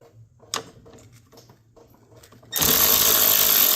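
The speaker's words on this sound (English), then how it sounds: "we can go ahead and remove our upper fan shroud bolts" A power tool spins off the 10 mm upper fan shroud bolts on a 2001-2004 Nissan Pathfinder. A few soft clicks and handling noises come first, then a loud, steady mechanical whir starts abruptly and runs to the end.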